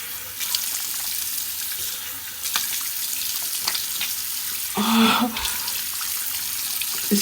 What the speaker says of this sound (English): I'm washing my face with lukewarm water